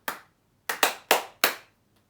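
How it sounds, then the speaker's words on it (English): Erratic clapping: a single clap, then a pause, then three or four sharp claps in an uneven rhythm, close and dry with no other sound. "Weird erratic clapping."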